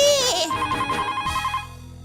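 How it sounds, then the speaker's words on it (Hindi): A telephone rings loudly with a bright electronic trill, one sustained burst fading out near the end, with a voice briefly at the start. "फोन"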